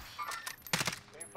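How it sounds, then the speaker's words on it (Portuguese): Gunfire in the video game Call of Duty: Warzone comes as a few short, fairly faint bursts of rapid shots separated by brief gaps, the loudest cluster in the middle of the moment. "Tá levando tiro de cima"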